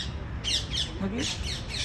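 Parrots squawk from high and low in a tree at an old office compound, loud harsh calls repeating in bursts over a steady outdoor background.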